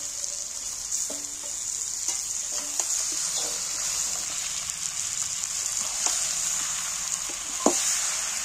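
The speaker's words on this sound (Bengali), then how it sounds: "এইবার আমি ম্যারিনেট করা মাংসটা আমি এর মধ্যে তুলে দিচ্ছি" Marinated meat sizzling steadily as it fries in a hot pan over browned onions, a continuous close frying hiss with occasional soft clinks and stirring knocks throughout, no voices.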